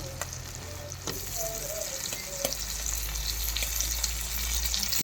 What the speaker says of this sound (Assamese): আগত ভাজি কৰি লওঁ আলুটো।